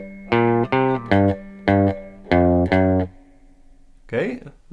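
Electric guitar with effects plays the first two measures of the Mission Impossible theme, six loud plucked notes in the familiar rhythm, followed by a short low slide.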